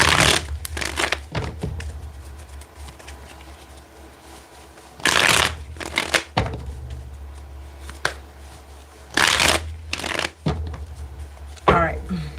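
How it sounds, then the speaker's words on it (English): Tarot cards are shuffled in several quick riffling bursts separated by pauses, close and crisp, with a person speaking between the shuffles. "Let me get 3 more shuffles."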